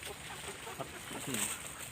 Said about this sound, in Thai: ไก่มาทางนู้นครับ